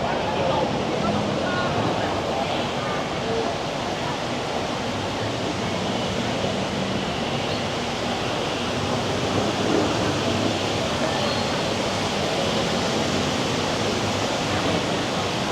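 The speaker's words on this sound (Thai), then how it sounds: "น้ำตกสะอาด โอ้โห น้ำไหลแบบเป็นธรรมชาติจริง ๆ" A clean natural waterfall at a Thai tourist attraction pours and splashes steadily, a dense, even roar of rushing water at constant loudness throughout, close to the listener.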